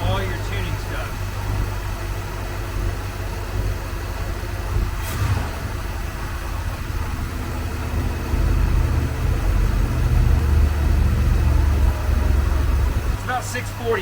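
A Ford Bronco engine idles steadily at about 640 rpm while its ignition timing is being adjusted, giving a continuous low rumble that swells slightly toward the end, with a couple of brief clicks over it.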